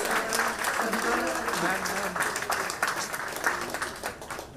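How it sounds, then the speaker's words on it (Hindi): Applause from an audience at a satsang gathering honouring couples called up by name, steady clapping throughout with a faint voice underneath. "जोरदार तालियों के साथ"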